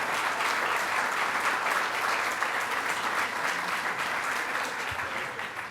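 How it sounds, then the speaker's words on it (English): A crowd applauds loudly and steadily throughout at a governor's public announcement, a dense wash of clapping that tapers slightly near the end. "So give yourselves a round of applause for being who you are."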